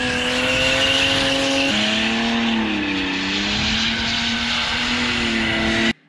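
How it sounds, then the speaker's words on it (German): A car drifting around a traffic cone holds a loud, sustained engine drone close by with a steady tonal whine that dips and bends as revs shift, then cuts off sharply at the end. "nehmt ihr das Lenkrad in die Hand und dosiert mit dem Gaspedal schön einen konstanten Drift"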